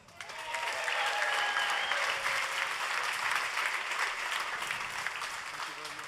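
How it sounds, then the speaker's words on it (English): A crowd at a Bugatti event in Molsheim, France applauds loudly and steadily, with cheers and voices mixed into the continuous clapping. "And please, a big applause for the fastest man on the road,"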